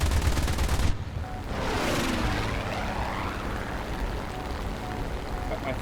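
Aircraft cannons in the War Thunder flight game fire a rapid, loud burst for under a second, then give way to the steady drone of a propeller plane's engine.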